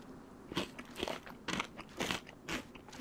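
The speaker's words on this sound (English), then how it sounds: "Everything's crunchy in DayZ, even baked beans" Crunchy chewing of canned baked beans in the video game DayZ, six loud, close bites in an even rhythm, each a sharp crunch with no speech.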